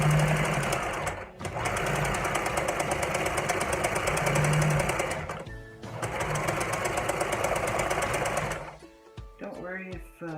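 A sewing machine runs in two long steady bursts of rapid stitching as a placemat corner is sewn, with a pause to turn the fabric between them. It stops near the end, leaving a few mechanical clicks.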